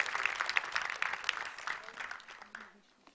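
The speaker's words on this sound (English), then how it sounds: "please put your hands together and give a huge round of applause" Audience applause at a humanity award ceremony: dense, steady clapping from a crowd that holds for about three seconds and then begins to thin near the end.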